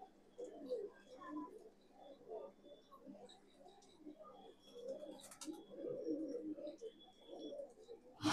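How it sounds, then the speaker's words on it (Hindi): Madrasi pigeons coo softly and repeatedly in a low, throaty burble, several birds overlapping at close range with faint chirps and a brief clatter near the end. "बहुत ही हसीन लाजवाब कबूतर है सबके सब।"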